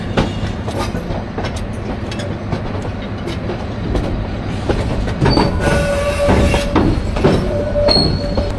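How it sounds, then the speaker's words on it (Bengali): A metre-gauge Burimari Express train rolls along the track with a steady rumble, rhythmic wheel clatter and occasional metallic squeals, heard from inside, loud and continuous. "এবার কিন্তু ট্রেনে আস্তে আস্তে গতি বাড়তে শুরু করবে"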